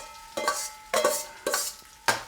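Rice tossed and stirred in a hot pan for Peruvian arroz chaufa, with four scraping, rustling strokes about half a second apart over a steady faint sizzle, close and alone.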